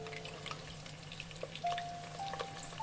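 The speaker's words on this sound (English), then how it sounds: "Fry over medium heat the entire time, for about 5 to 6 minutes." Shrimp balls with a cheesy potato filling fry in oil over medium heat, giving a faint, steady crackle with scattered small pops and sizzles, quiet and close with no voices.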